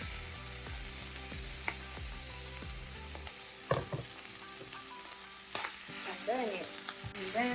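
Vegetables tossed into a hot pan with cooked shrimp and mushroom for Sichuan-style stir-fry noodles, sizzling quietly under rhythmic scraping and clattering of a utensil against the pan, a few louder knocks toward the end.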